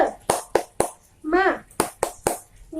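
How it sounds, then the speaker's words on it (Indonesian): A rhythmic 'tepuk semangat' spirit clap in a primary-school classroom, led by a teacher. Crisp, close claps fall in a patterned beat, broken by a brief spoken chant in the middle before the claps resume. "Tepuk semangat"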